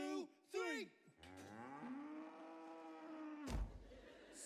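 A cow moos in a scene from the film Heathers, first a couple of short lowing calls and then one long drawn-out moo, fairly close, ending in a dull thump.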